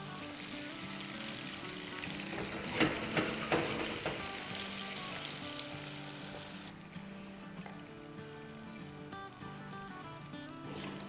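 Boti meat pieces for Bakra Eid frying in a pan, a steady broadband sizzle running throughout with a few louder crackling bursts around the third and fourth seconds, while music plays underneath.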